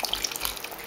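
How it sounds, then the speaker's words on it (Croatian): Water or stock is poured into a pan over beef medallions, giving a brief, close splashing and trickling sound that lasts under a second. "Polijemo s vodom ili temeljcem"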